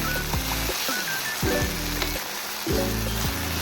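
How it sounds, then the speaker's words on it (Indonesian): Basil leaves stir-fried with eggplant in a hot pan until wilted, a steady sizzle broken by repeated utensil strokes and clanks against the pan, no speech. "lalu aduk rata sampai kemanginya layu"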